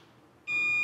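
A multimeter on continuity mode, probing ground on a SanDisk USB flash drive's circuit board, gives a sudden steady high-pitched beep that starts halfway through and holds to the end after a quiet lead-in.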